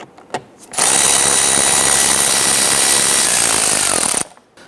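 Power tool loosening and removing 8mm bolts from the fender liner on a 2011-2019 Ford Explorer, one loud continuous whir lasting about three and a half seconds, close by, after a couple of faint clicks.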